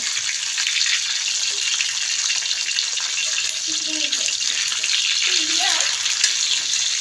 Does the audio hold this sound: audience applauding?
no